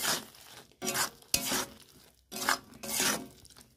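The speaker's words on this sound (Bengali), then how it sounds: "ভালো করে নেড়ে একটু কষে নেব।" Spices for matar paneer being stirred and sautéed in a pan: several bursts of scraping and sizzling, each lasting about half a second, separated by short pauses, close by and moderately loud.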